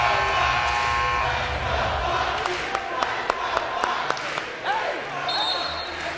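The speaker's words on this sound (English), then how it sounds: "Listen to this crowd." A basketball tournament crowd cheers and roars in a packed gym. Sharp ball bounces and squeaks cut through the steady wall of noise, and an announcer talks over it.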